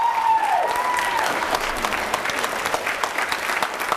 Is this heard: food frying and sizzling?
no